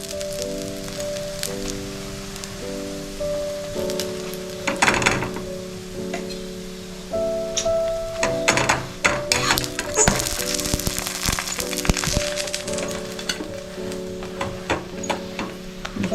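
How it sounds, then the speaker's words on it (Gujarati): Paratha roasting in ghee on a pan gives a steady close sizzle under a sustained background hum, with scattered clicks and scrapes of a spatula and rising crackle toward the middle. "જો હવે આપણે ઘી મૂકીને શેકી લઈએ છે પરાઠાને"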